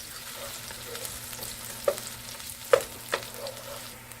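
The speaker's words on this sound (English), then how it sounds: "keep stirring until your onions get a little bit brown" Onions sizzle in a pan for Chinese takeout-style fried rice while being stirred, a soft constant frying hiss punctuated by a few distinct spatula scrapes and taps.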